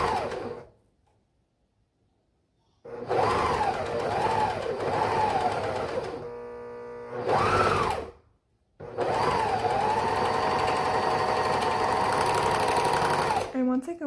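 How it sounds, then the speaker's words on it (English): A serger overlocks the fabric edge of a duster cardigan in loud, steady bursts of rapid mechanical whirring, stopping and restarting several times with brief pauses between runs. "Once I complete the circle, I just serge off and tie off these little threads"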